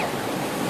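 A cartoon effect for rising flood water gives a brief, loud, rushing wash of water, steady and surging slightly at the end, with no talk.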